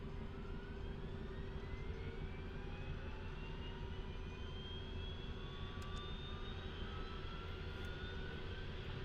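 A helicopter engine in its startup procedure, with throttle added, drones steadily as rising turbine whines glide upward over a constant low hum. The sound is continuous and fairly quiet, with a couple of faint clicks and no talk.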